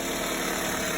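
A Toyota Corolla engine idles steadily with the radiator open during a coolant change, a continuous close mechanical hum and vibration with no talk.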